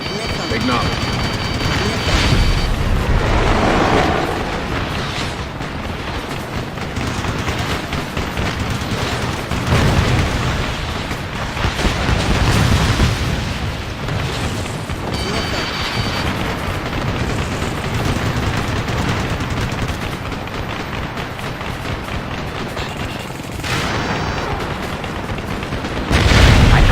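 Heavy gunfire and booming explosions from an Ace Combat Assault Horizon battle roll on without pause, loud and dense, with radio chatter running over the blasts throughout.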